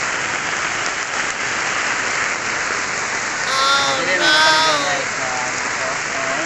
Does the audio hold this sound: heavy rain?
yes